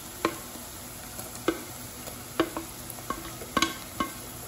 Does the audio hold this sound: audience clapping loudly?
no